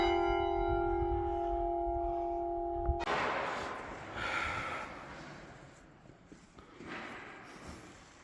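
A church bell rings with a clear, sustained tone for a few seconds, then breaks off into a rush of noisy rustling and breathy sounds.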